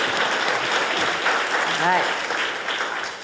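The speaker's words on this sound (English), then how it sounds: "That deserves some applause." Audience applause at a Michigan political conference fills the room as a sustained, dense wash of clapping, with a brief voice or whistle rising over it midway.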